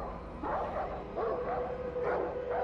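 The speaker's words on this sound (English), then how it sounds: "Dogs. Fucking dogs." Dogs in the shooter Far Cry 4 barking and yelping repeatedly, several mid-distance barks in an uneven rhythm over a steady low background rumble.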